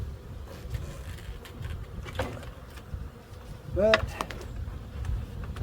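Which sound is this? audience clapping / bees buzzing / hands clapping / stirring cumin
bees buzzing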